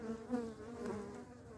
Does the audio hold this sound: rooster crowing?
no